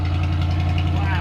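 A C8 Corvette with an upgraded exhaust idles nearby, a loud steady low rumble with a faint pulsing throb, and a voice talks over it.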